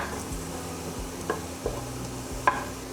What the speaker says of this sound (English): So I am roasting them or sautéing them now